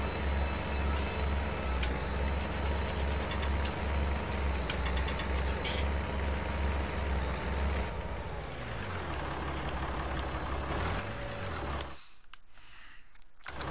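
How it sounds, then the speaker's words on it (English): A tractor in a logging simulation game reverses with a steady, loud diesel engine drone that shifts pitch midway as it changes gear, then cuts out abruptly near the end. "So I'm going to back the tractor up out of the way and just reset it all."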